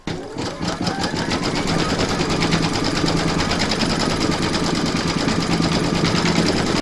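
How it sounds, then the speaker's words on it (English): An embroidery machine stitches an in-the-hoop coaster design, a loud, fast, steady mechanical needle rattle running without pause from start to finish. "Load whatever colour you're having for your sun or your moon into your machine and then stitch round number 8."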